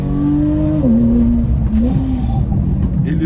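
Naturally aspirated 3.8-litre Porsche 911 engine on a track, singing loud and close behind the driver with a tonal note that sweeps up and down through the gears.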